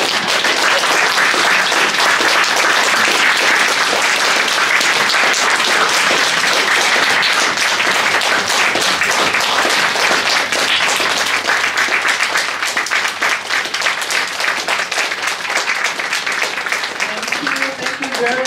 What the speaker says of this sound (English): you can all give them a round of applause